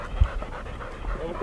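A catch dog pants during a wild boar hunt, quick close breaths with a low thump early on, while people talk nearby.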